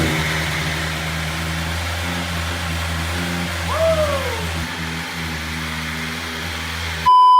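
A 2025 BMW S1000RR motorcycle with its stock exhaust runs at a steady, buzzing, moderately loud drone, a brief rising whine partway through, then a sudden jump in level at the very end.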